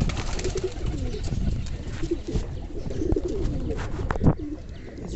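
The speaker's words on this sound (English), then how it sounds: "these birds are being very excited to take a bath" Fancy and flyer pigeons gather around a small bathing pool, cooing steadily up close with soft flutters and scuffles mixed in, plus one sharper burst near the end.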